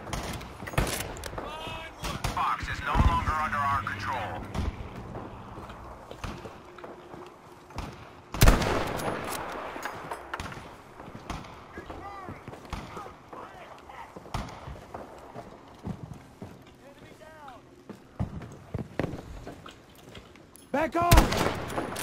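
Sharp, loud rifle cracks in Battlefield V, a Kar98 sniper rifle on the Twisted Steel map in France, with one strong shot near the middle and another at the end, set among game noise while someone talks throughout.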